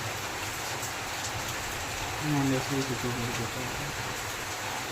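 Steady rain falls in a continuous hiss during a rainy day at home, with a faint low hum rising briefly midway.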